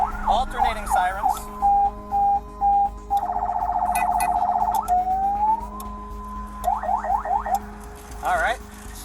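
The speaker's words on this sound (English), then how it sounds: "Alternating sirens." Police impersonator's truck running alternating police sirens, with wailing and yelping patterns switching between modes, loud and close, over a steady low engine-like hum.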